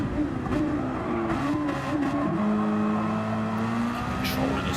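A race car at Interlagos nearly losing its tail end, engine droning loud and steady with shifting pitch and a tire squeal, while a commentator talks over it.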